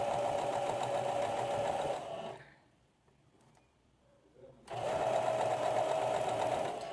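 A sewing machine runs in a steady close whir while stitching a narrow, folded hem on a blouse, pauses for about two seconds, then starts up again at the same even speed.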